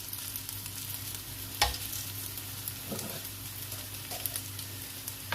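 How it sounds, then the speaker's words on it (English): Potatoes frying in a pan give a steady low sizzle with a few soft stirring knocks and scrapes, close by and without voices. "you can hear them starting to sizzle now"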